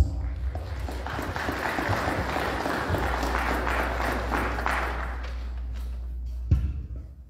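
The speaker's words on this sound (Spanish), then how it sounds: "Lo vamos a recibir con un fuerte voto de aplausos." Audience applause welcoming the dean of the engineering college at a civil engineering seminar, a steady broad wash of clapping over a low hum, with a thump near the end.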